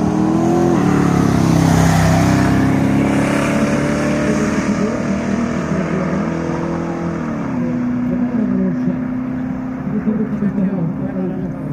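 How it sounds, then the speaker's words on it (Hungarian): A V8 hot rod accelerating hard down the strip at a season-closing drag race in Kiskunlacháza, a loud, sustained engine roar that shifts pitch as it climbs, with people talking over it. "V8 hot rod. Jó kis csapád, érkezik."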